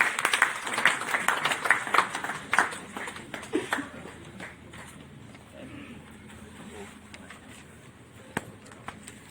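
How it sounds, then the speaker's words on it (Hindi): An audience at an award ceremony and book launch gives a burst of scattered clapping that is strongest at first, then thins out and fades into quiet room noise. "जोरदार तालियां"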